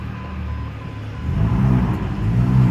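A V6 car engine with aftermarket exhaust idles low and rough, then revs up with a throaty exhaust growl, close and fairly loud.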